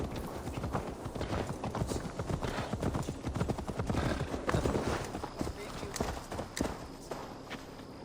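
Horse hooves clip-clop at a steady walking pace in Assassin's Creed Valhalla, with occasional snorts and game voices speaking over the hoofbeats.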